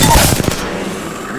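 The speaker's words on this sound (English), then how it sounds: "I'm taking shots." Rapid burst of close, loud gunfire from a first-person shooter video game, several overlapping shots in the first half-second that fade into a lingering rumbling tail.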